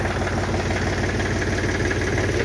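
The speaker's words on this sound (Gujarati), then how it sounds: "ટ્રેક્ટર છે અમારા શેઠનું।" A tractor engine idles close by, a steady low mechanical rumble with an even knocking pulse and no voices.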